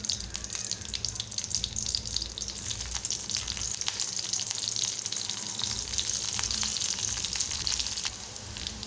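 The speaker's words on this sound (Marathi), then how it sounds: "मिरच्या चांगल्या तडतडल्या आहेत।" Green chillies frying in hot groundnut oil, a steady dense sizzle with sharp crackling pops throughout, close and loud with no talking.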